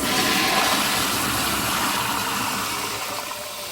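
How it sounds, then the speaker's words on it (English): A toilet flush valve pulled by its handle while an attached bedpan cleaner squirts water: a loud, steady rushing of water close by, easing off slightly toward the end with no talking. "whenever you pull your flush valve right here, your flush handle, it's going to squirt water from there."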